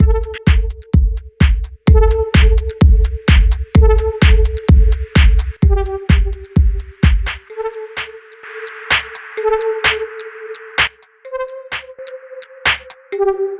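A steady electronic music track with mastering applied, punchy kick drums on a regular beat and a repeating melodic line, bright and full, which briefly thins out partway through before resuming.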